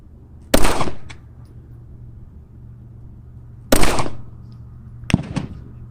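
Three loud, sharp shots from a Taurus Spectrum pistol fired at a range, two spaced well apart and a third about 1.5 seconds after the second, each with a brief ringing tail over a steady low background hum.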